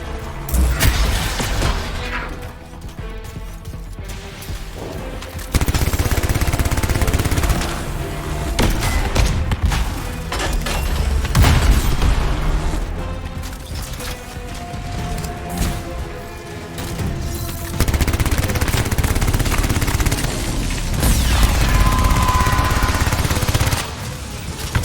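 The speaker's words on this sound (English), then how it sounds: "They've got turrets of some sort." Turrets firing during Anthem gameplay, sustained loud bursts of rapid gunfire and booms mixed with mechanical combat noise, with no speech.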